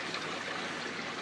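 Water flows steadily across a copper-plastic separating table used for recycling copper wire, a continuous broadband rushing and trickling wash heard alone at moderate level, with no talk.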